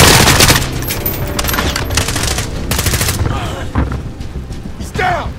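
Enemy machine gun fire in a Call of Duty: Modern Warfare campaign firefight, with sustained rapid bursts hammering close and loud, mixed with heavy impacts and booms, and shouted voices in the background.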